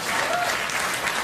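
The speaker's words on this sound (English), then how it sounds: "I can't believe you're clapping that." Loud, close studio audience clapping during a late-night comedy show sketch, a dense continuous burst of many hands lasting about a second without any voices.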